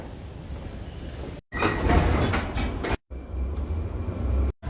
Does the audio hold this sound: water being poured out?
no